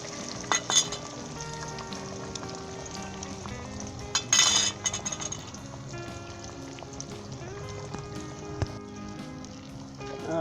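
Two eggs frying in a pan over medium heat for Pakistani-style egg fried rice, a steady close sizzle with scraping stirs and a few sharp utensil clinks, no talking.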